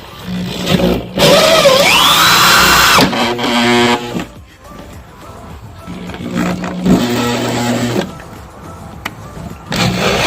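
A corded drill bores a hole for a boat transponder, rising in a loud whining spin-up, then a steady buzzing run before stopping, followed by clunks and a second shorter burst of drilling, with no talk.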